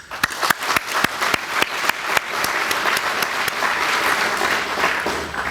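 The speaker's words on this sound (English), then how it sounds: "So please join me in a round of applause" An audience at the official launch of a UN peacekeeping command post exercise gives a round of applause, sharp individual claps at first swelling into a sustained, even wash of clapping from many people.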